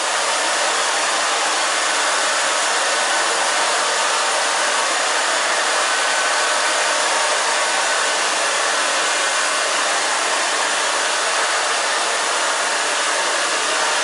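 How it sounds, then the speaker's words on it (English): A hair dryer blows steadily while drying hair during a haircut, a loud, continuous broadband whoosh that runs unbroken from start to finish with no voices. "Just drying this down in the back."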